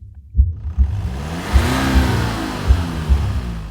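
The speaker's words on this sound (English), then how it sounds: "awakened by the revving of a car in his driveway" A car engine revs in a driveway at midnight as an audio drama effect, with a close, loud rumble rising in repeated pulsing surges over a few seconds and no voices.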